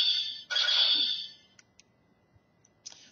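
A Gekiranger Geki Chopper toy plays its electronic blade-mode effect: a bright, tinny synthesized tone swelling in two close bursts, then a few small clicks and a brief final chirp, heard up close without talk.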